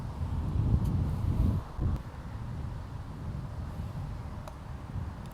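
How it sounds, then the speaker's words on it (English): Low, steady wind on a golf course rumbles and buffets against the microphone, gusting a little stronger early on before settling into a constant roar. "Let's take the flag out because it's really windy."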